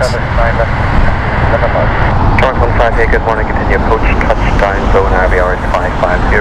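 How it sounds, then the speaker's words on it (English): A passenger jet, an American Airlines Boeing 777 on the LAX flight, passes overhead near Heathrow Airport in London, its steady broadband engine roar filling the whole stretch under constant background noise. "You might as well just get the plane going over."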